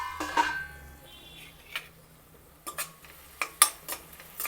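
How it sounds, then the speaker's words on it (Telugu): Onion pieces stirred in a cooking pot while frying for a vegetable curry, a metal spoon scraping and clinking in a few sharp, separate knocks against the pot, close and fairly quiet with lulls between strokes. "ఉల్లిపాయ కలుపుదాం ఒకసారి."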